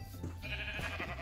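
Blocky sheep in a modded Minecraft world (FTB Ultimate) give a few short bleats close by over steady low game background noise.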